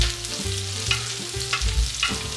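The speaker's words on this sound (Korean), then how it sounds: "달궈진 팬에 식용유를 둘러주시고 양파 먼저 볶아줍니다." Sliced onions and garlic stir-fry in cooking oil in a hot pan, a steady sizzle with a few louder bursts as the food is stirred and tossed.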